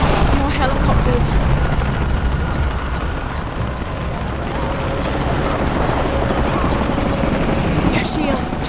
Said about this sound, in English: More helicopters.